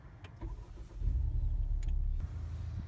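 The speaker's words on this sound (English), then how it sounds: "I'll start the car. Press the clutch here and hit my start switch." A 2017 Honda Civic Type R, a manual-transmission hot hatch, starts with a push button: a brief crank, then the engine catches and settles into a smooth, quiet, steady idle heard close up.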